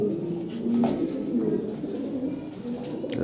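White Lahore pigeons, large big-feathered fancy birds, coo in a low steady murmur that runs throughout, close and moderately loud with faint background noise.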